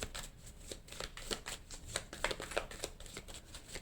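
Fortune-telling cards being shuffled by hand, a quiet run of rapid papery riffles and soft slaps repeating in an uneven rhythm, close but faint, with no one talking.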